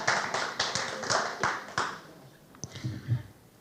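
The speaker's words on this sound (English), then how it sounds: "It's okay to applaud." At an Oakland school district board meeting, a few audience members give brief, sparse applause: a handful of rhythmic claps fading out within two seconds, then quiet room noise.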